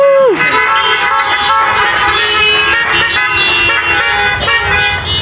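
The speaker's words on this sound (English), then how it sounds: "honk your horns for them" Car horns honking together in a parking area, several loud overlapping toots sustained across the whole stretch, with traffic noise underneath.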